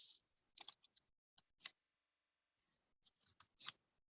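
Scissors snip through paper while making a paper Holi water squirter, a series of crisp, close cuts in irregular short bursts separated by quiet pauses.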